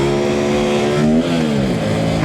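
An Aprilia RS457 motorcycle on its stock exhaust revs hard under acceleration, a loud close engine drone rising in pitch, dipping briefly as it shifts, then climbing again.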